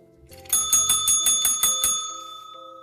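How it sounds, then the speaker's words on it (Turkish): A school bell rings rapidly about eight times in a quick metallic trill, then a lingering tone fades out; no voices. "Zil çaldı. Hadi teneffüse."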